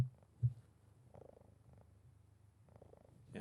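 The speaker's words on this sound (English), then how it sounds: "you might hear my crazy cat purring" A pet cat purrs steadily while sitting on its owner's lap, a soft low continuous rumble with gentle rhythmic swells, close and quiet, with one brief louder bump near the start.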